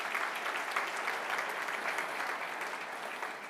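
A crowd at a Nigerian innovation talk claps for celebrated guests, a brief steady burst of audience applause at moderate level, fairly even throughout with no speech over it.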